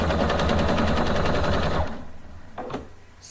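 A PFAFF sewing machine stitches the first part of an exclusive ribbon stitch, a loud, steady rapid needle chatter for nearly two seconds that then stops, leaving a quiet room with a couple of faint clicks.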